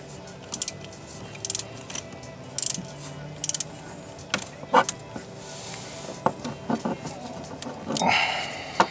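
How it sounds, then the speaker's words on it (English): A ratchet with a short socket and extension loosens a spark plug on a Cadillac Escalade, giving short bursts of clicking separated by quiet gaps. "I have a short socket and a short extension with a ratchet installed, ready to remove the spark plug"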